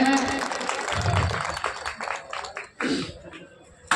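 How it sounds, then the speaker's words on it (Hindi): An outdoor crowd at a memorial gathering in Ballabhgarh claps to welcome guests, a scattered burst of applause that swells and fades over a few seconds amid background murmur and a voice. "सभी साथी तालियां बजा करके स्वागत करें।"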